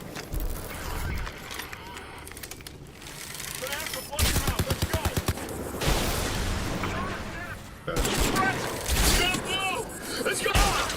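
Turret gunfire in the video game Crysis 3, with rapid regular bursts of shots around the middle and other gunfire and game noise elsewhere, mixed with people talking throughout.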